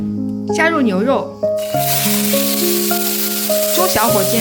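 Beef sizzling in hot olive oil in a wok, a steady hiss that starts partway through and continues under background music, with a voice briefly heard near the start.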